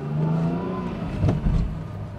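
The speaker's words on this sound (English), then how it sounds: "It makes reasonably pleasant 6-cylinder noises" A Mercedes-Benz 280SL six-cylinder engine runs at low speed as the car rolls over a speed bump, giving a steady close mechanical hum with a brief thump and surge midway.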